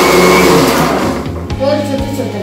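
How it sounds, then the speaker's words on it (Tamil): A mixer grinder whirs loudly, grinding curry leaves for a Kerala-style drumstick and fish gravy in short pulses, its motor pitch dropping and rising between rounds. "3/4 வாசி கருவேப்பிலை போட்டு ஒரு 2 ரவுண்டு அரைச்சா போதும்."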